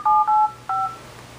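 Telephone dialing tones from the Groove IP app on a Nexus 7 tablet: three crisp, loud electronic keypad beeps in quick succession, each a clean steady dual tone with short gaps and no talk.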